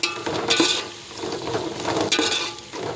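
Sliced onions sautéing in hot oil with fennel seeds and bay leaf in a pan for vegetable biryani, a steady close sizzle broken by a couple of bursts of stirring and clinks against the pan.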